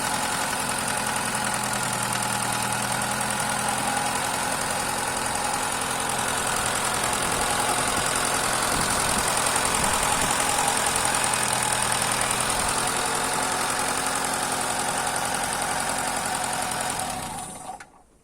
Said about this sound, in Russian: Все, машина работает на газу.